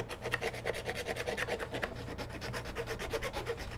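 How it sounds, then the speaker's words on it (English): Steady, rhythmic rasping of a file worked back and forth on a small part for a 1:350 scale Star Trek TOS destroyer class starship model, close and fairly quiet, with no voices. "I know this is a lot of filing"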